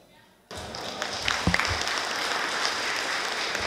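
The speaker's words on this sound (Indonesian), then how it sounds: "Biar tepuk tangan lagi" An audience at a university entrepreneurship talk bursts into applause after a near-silent moment, a dense, steady clapping that holds at even loudness to the end.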